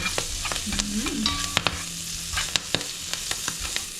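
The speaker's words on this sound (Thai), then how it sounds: "เพิ่มพริกไทยดำนั่นเอง แค่นี้ค่ะทุกคน ผัดผัดให้มัน" A stir-fry seasoned with black pepper sizzles loudly in the pan while a utensil scrapes and taps against it in quick, irregular strokes, close up and with no voices.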